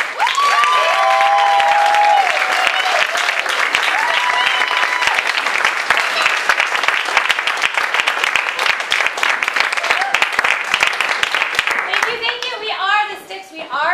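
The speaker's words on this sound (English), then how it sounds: "Please give a round of warm applause to welcome the Sticks Improv." A theatre audience gives an improv comedy group a loud, sustained round of applause as it takes the stage, with scattered whoops and cheers in the dense clapping that thins near the end as a voice begins.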